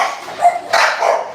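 A large working dog barks and yips in a few short bursts, close and fairly loud, with a brief whimpering edge between calls.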